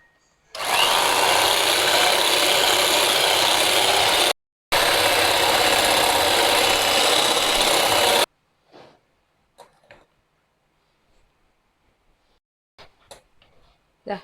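An electric hand mixer beats a marshmallow mixture flavored with strawberry essence, running loud and steady for several seconds with a short break, then stopping and leaving faint scattered clatter.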